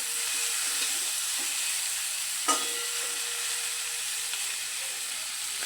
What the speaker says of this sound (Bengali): এবার উচ্ছে আর কুমড়োর সাথে ভালো করে নেড়ে চেড়ে আবারও কিছুক্ষণের জন্য ঢাকা দিয়ে রাখবো।